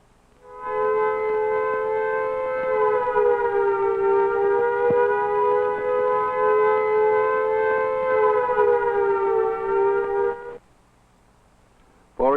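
A civil defense warning siren from an old 16mm film soundtrack holds a loud, steady, harmonic wail for about ten seconds before cutting off abruptly.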